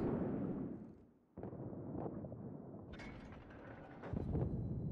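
Warship guns firing in the World of Warships naval combat game, heavy booming blasts rolling out over a continuous low rumble, with a sharper burst near the end.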